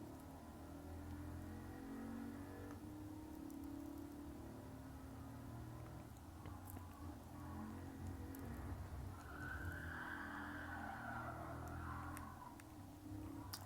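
Rally trucks, one of them a Ford, run a mixed dirt and asphalt course, a continuous faint engine drone with revving and tire noise heard from a distance.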